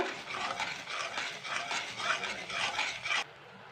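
A spoon stirs sugar and syrup into a thickening bread malai in a pan, making a steady, rhythmic scraping and swishing that is close and fairly loud, then stops abruptly near the end.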